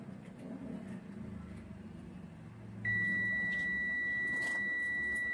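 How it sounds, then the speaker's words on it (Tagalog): A steady multimeter continuity buzzer tone switches on partway through and holds continuously over faint background hum, close by, while testing a CPU liquid cooler's circuit. "Buzzer sound."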